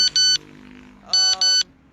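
A phone text message notification sounds as two loud pairs of sharp electronic beeps, separated by a short gap with a low murmur underneath.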